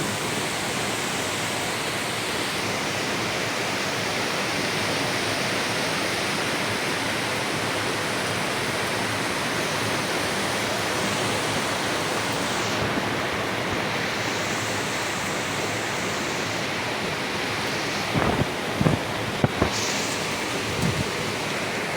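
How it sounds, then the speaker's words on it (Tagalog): Steady, dense rain pours down on a windy, cool day in Canlaon City, Negros Oriental, a constant hiss that fills the scene without break, with a few faint clicks near the end and no voices. "Minsan alam mo, ang sarap pakinggan ng ulan."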